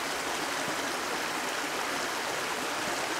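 A creek along Lower Rock Creek Trail in Missouri rushes steadily and loudly over rocks, a dense unbroken wash of water noise close by, with no voices.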